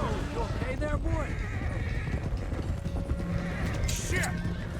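Horses in Red Dead Redemption 2 whinny in a few rising calls over steady clip-clopping hooves, with a loose stallion among the herd being driven to Clemens Cove, all set against a dense game soundscape with faint mechanical clicks.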